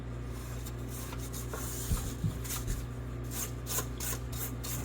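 A spatula scrapes down the sides of a stand mixer bowl of pound cake batter, soft rubbing strokes over the steady hum of the mixer motor, close and fairly quiet.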